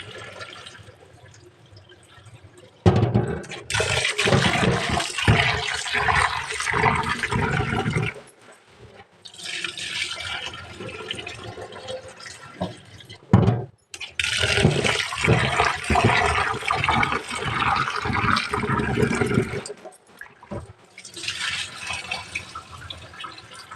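Rice being washed by hand in water, rinsed three times: sloshing, splashing water in several loud bursts separated by brief pauses, close by, with no talking.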